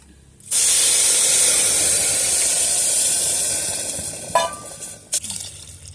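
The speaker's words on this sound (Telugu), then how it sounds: "ఇప్పుడు సాబుదానా వేసుకొని ఒకసారి కలుపుకొని ఇలాగా ఇప్పుడు తగినన్ని నీరు వేసుకోవాలి" Water pours steadily into a pot of fried moong dal and sabudana, a loud continuous gushing hiss that fades toward the end, followed by a couple of sharp clinks.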